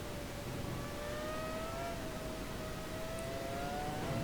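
Race car engine at Monza in the Automobilista video game, a sustained high whine holding nearly steady pitch, loud and continuous.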